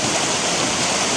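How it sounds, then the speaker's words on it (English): Steady rushing water beneath a glacier in Alaska, loud and continuous like a strong stream or torrent, filling the whole clip with no voices. "There's underground currents and waters that are running"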